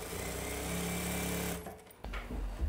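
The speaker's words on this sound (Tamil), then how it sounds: "ஓரமாக வந்து நம்ம தையல் போட்டுக்கிட்டே வரலாம்" A tailoring sewing machine hums steadily while stitching the folded side edge of a cotton saree, close and continuous for about a second and a half before stopping, followed by faint handling sounds.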